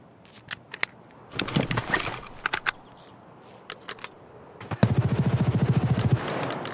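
Rapid bursts of M4 rifle fire in the shooter game Escape from Tarkov, scattered single cracks first, then a loud sustained automatic volley near the end, close and sharp.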